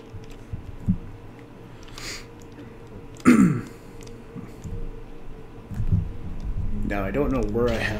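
A character coughing in the Vampire: The Masquerade – Bloodlines video game, a few short throat-clearing coughs under background game sounds and someone talking.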